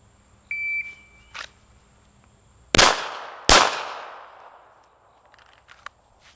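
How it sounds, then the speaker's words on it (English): Two loud sharp handgun shots from a drawn pistol, fired at 7 yards on a qualification range, crack close together after a short electronic shot-timer beep and fade into brief ringing echoes. "draw and fire 2 in 4 seconds"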